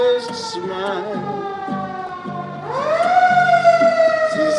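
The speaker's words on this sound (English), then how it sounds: "the sirens are blaring" Emergency sirens wail loudly and close, rising and falling tones layered together, with a second siren sweeping up partway through and continuing to the end.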